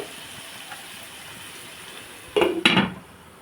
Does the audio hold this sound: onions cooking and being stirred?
yes